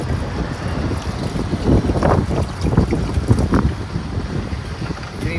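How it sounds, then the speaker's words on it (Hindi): Strong wind buffets the microphone in a continuous roaring rush with gusty surges, outdoors near Alaska, with no talk over it. "इतनी तेज़ हवा आ रही है।"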